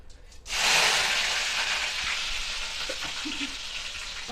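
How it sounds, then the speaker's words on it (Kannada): Garlic drops into hot oil and bursts into a loud, dense sizzle after a brief quiet moment, then keeps frying steadily with a few soft stirring knocks. "ಇವಾಗ ನಾನು ಇವಾಗ ಬೆಳ್ಳುಳ್ಳಿ ಹಾಕ್ತಾ ಇದ್ದೀನಿ"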